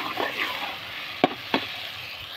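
Onion frying in oil in a pan on a wood-fired stove, a low steady sizzle with two sharp spoon clinks near the middle, no voices.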